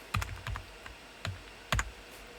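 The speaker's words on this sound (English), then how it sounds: "I will type in the manufacturer name" Keys tapped on a computer keyboard while entering a manufacturer name into a subpanel symbol block's attributes: a few quick clicks at a time, with short pauses between them, close and fairly quiet.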